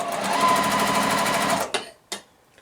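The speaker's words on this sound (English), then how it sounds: "And I can just continue to sew these together." A sewing machine stitches beginner quilt pieces for a large house block, running in a steady close whir for over a second and a half, then stopping, followed by two short bursts of fabric handling.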